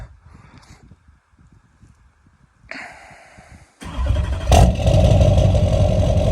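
A Duramax LLY diesel truck with a 5-inch FloPro exhaust and HSP intake cranks over after a remote start, then catches into a loud, deep, steady idle, following a quiet stretch with faint background voices.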